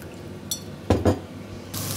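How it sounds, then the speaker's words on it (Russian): Sauce mixed with water is poured from a small bowl into a frying pan for a chicken and mushroom dinner, giving a short liquid splash and a pair of louder pouring bursts near the middle, followed by a steady hiss. "выливаю все это дело в сковородочку"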